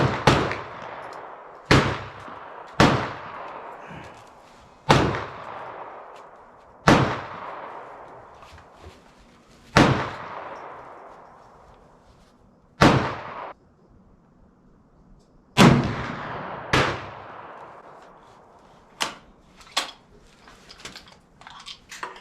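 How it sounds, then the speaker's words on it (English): 20 gauge shotgun firing copper sabot slugs at an outdoor range, a series of sharp, loud single reports at irregular intervals, each followed by a fading ring, with no talk over them. "Shot number 3 fired"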